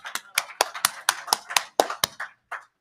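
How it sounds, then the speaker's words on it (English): At a debate, a run of about a dozen sharp, close claps falls in a steady, rhythmic beat and tapers off into silence. "Wait for the applause."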